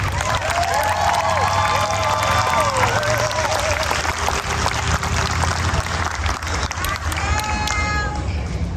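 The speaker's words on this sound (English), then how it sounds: "a round of applause." Loud audience applause for graduates at an 8th grade promotion ceremony, a dense, steady wash of clapping with cheering and crowd voices mixed in, continuing throughout.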